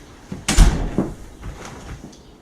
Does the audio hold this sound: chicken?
no